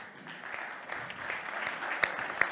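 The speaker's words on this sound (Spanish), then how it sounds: "un fuerte aplauso para Juan Llorca" An audience at the ftalks Food Summit 2021 gives steady, moderately loud applause for a speaker, a dense patter of many hands with a few sharper claps standing out.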